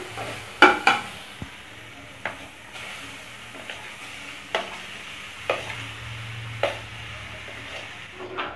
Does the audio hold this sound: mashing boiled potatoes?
yes